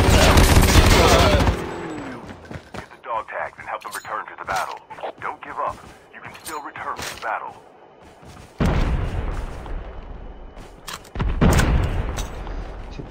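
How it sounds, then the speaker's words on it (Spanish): A flashbang grenade goes off in a first-person shooter video game amid heavy gunfire: loud, sharp broadband bursts, the strongest at the start and two more later, with a player's voice talking over the game audio. "Flashbang grenade."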